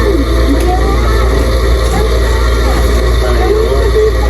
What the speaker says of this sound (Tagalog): kung naririnig nyo ngayong ingay ngayon, ayan ngayon tunog ng aircon namin na luma